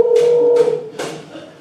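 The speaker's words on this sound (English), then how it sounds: "Dialing." A telephone dial tone hums steadily as a phone is dialed in a stage play, with brief bursts of dialing sounds, up close and loud for under two seconds.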